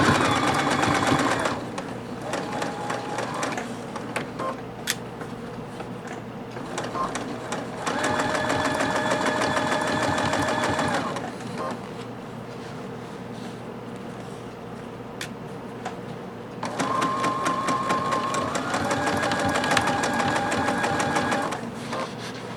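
A sewing machine stitches a beach tote bag in three long whirring runs separated by quiet pauses, the last ending in a backstitch; close and steady, with faint talk between bursts.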